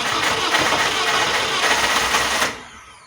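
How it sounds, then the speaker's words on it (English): A Fiat Punto 188 1.2 8v engine with missing compression cranks steadily for about two and a half seconds without catching, then cuts off abruptly. "pay very close attention to the sound of the engine"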